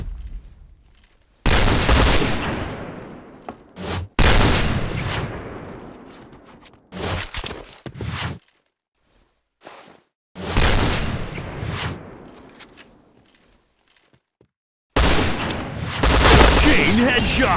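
Gunfire in a shooting video game: loud bursts of rapid shots and booming blasts come in several clusters separated by near-silent gaps, with reverberant tails fading after each burst.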